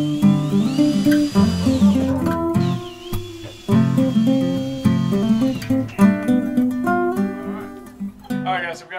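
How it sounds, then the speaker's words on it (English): A power drill drives struts into a wooden board for a boat's bowfishing platform, its motor whining up and holding pitch in repeated bursts, with short pauses and pitch shifts between runs. "Now we're about to drill the struts into the board."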